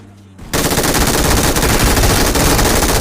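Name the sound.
MG3 machine gun fire in video game BGMI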